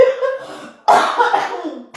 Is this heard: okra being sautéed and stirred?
no